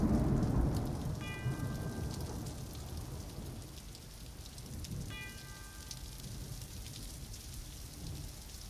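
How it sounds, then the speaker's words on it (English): Steady, heavy rain falls with low rolling thunder, like the stormy opening of a 1970 song. Two distant tolling bell tones ring out a few seconds apart over the downpour. "Oh, it's a rainy day."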